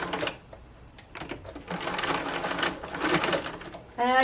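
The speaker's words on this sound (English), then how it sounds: "Now I just need to sew these 4 pieces to the bottom." Sewing machine stitching thick beanbag slipcover fabric, running in steady close bursts with brief pauses and a faster whirring run at the end.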